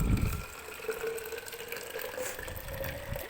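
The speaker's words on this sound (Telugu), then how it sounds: "బాటిల్ నింపేస్తున్నాను కదా." A water bottle fills under a steady, close stream of running water that pours evenly throughout.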